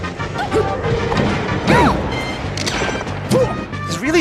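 Forward smash attacks landing in a Super Smash Bros. Melee match, giving sharp crashing hits amid busy game effects, with rising and falling tones, an occasional voice in the mix.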